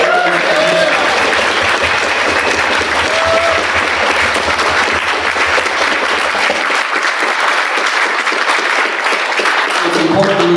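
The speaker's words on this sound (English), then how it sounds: "Can we get another round of applause?" Sustained applause from a large audience at the Libertarian Party of Florida convention, loud and dense throughout, with cheers and murmurs mixed in and a few faint voices rising near the end.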